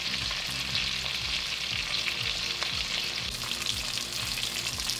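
Shallots frying and softening in a pot on the stove for beef bourguignon, a steady close sizzle with light crackling and occasional stirring scrapes throughout, no voices.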